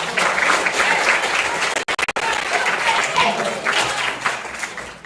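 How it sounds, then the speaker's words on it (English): Students at a Latin certamen quiz competition applauding, a dense, loud, sustained round of clapping from a room full of people, broken only by a brief dropout midway. "Oh, everyone clap."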